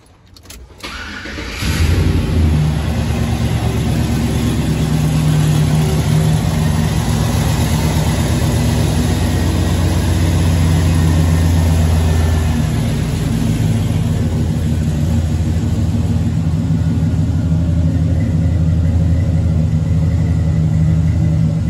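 A 1976 Chevy Caprice with an LS engine swap cranks and starts right up, then settles into a loud, steady, rumbling idle that runs on without a break, close to the microphone and with no voices.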